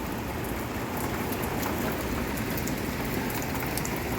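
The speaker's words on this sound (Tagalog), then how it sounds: "ang lakas ng ulan" Heavy rain pours steadily outside office windows, a dense, even hiss of drops on surfaces that holds constant throughout with no voices.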